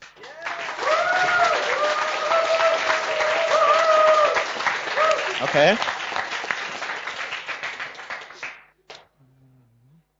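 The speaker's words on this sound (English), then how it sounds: "That was quite an applause." A hackathon finale audience breaks into sustained applause and clapping with whoops and voices mixed in, loud and steady before cutting off abruptly, followed by a brief spoken word.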